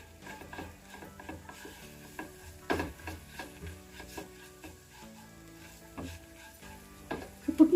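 Avakura greens stir-fry in a pan over a low flame, a soft sizzle under repeated scraping and tapping of a spatula turning them; close and moderately quiet, no speech.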